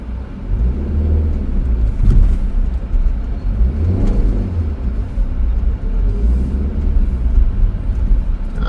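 A car climbs a hill in Pune city traffic, its engine rumbling and revving steadily with a few surges of acceleration, close and continuous, with no voices.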